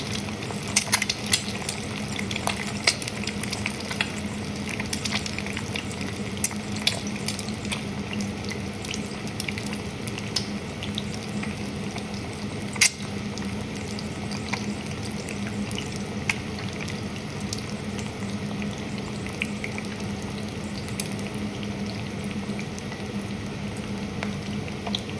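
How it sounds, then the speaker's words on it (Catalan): An egg fries in hot oil in a pan for a Cuban-style rice dish, giving a constant close sizzle and bubbling with scattered crackles and pops throughout, with no talk. "el més fàcil és trencar l'ou en un bol i l'aboquem amb l'oli, amb cura perquè no esquitxi"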